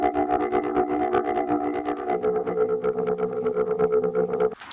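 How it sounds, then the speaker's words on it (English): Pulsing synth bass from the GR Mega, a thick distorted tone throbbing in a fast regular rhythm, loud and unaccompanied, cutting off abruptly near the end. "this was also a bass sound that I used for the intro of this video"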